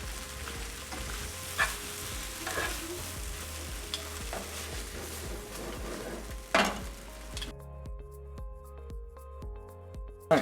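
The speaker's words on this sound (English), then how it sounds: "I'm going to break up any big chunks of meat here." Chunks of meat frying in a pan for salsa verde enchiladas are broken up with a utensil: a steady close sizzle under scraping and stirring strokes. The sizzle cuts off near the end, leaving a few light clinks.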